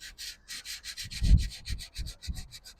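Timbermate wood filler on a mid-century dresser being sanded by hand with a cork block: rapid back-and-forth scratchy rubbing strokes, close and steady, about a dozen rhythmic passes with soft thuds on some.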